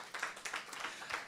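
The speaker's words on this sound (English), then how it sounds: "give yourself a round of applause for coming here tonight" A comedy club audience at the Joke Factory applauds, with close, quick, rhythmic clapping pulses over about a second, fairly faint and with no voices.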